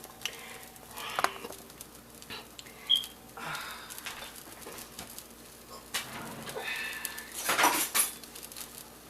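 A spoon moves chitterlings around in a metal pot, producing scattered clinks and scrapes at an irregular pace, fairly quiet, with a faint background chirp.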